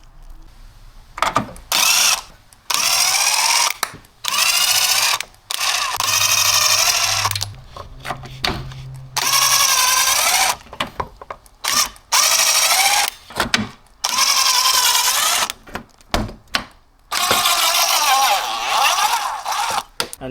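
Impact driver or drill bursts repeatedly zipping off the four bolts on the front X brace of a BMW E36, several loud whirring runs of one to three seconds separated by short pauses, close up with no talk.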